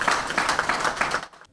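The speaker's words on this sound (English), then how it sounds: "applause from industry experts as WarHorse Casino LLC becomes the first authorized casino operator in Nebraska" Applause from industry experts and Nebraska Racing and Gaming Commissioners at the opening of WarHorse Casino in Lincoln, a steady wash of clapping that fades out at the end.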